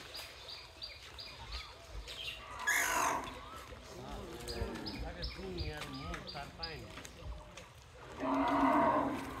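A cow moos on a farm, drawn-out low calls rising near the start and again at the end, while people talk and shout nearby.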